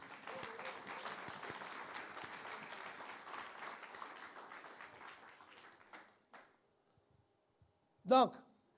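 A church congregation applauds and cheers during a sermon, sustained clapping mixed with voices that fades out, followed by a few isolated taps and one sharp loud clack.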